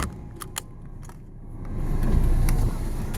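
A car rolls slowly around a car park, its low engine rumble swelling toward the end, with a few faint clicks and knocks from inside the cabin; no one speaks.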